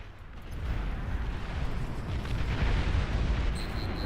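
Plasma launchers firing in the real-time strategy game Beyond All Reason, a dense, continuous rumble of overlapping booms and blasts that stays loud throughout, with a few faint high tones near the end.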